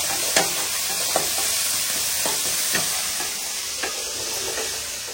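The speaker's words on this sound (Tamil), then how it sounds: "வெங்காயத்தை சேர்த்துக்கலாம். ஆனியன் நல்லா வதக்கிடலாம்." Onions and curry leaves sautéing in a pan, a soft continuous sizzle with occasional stirring scrapes and light clinks, close and steady.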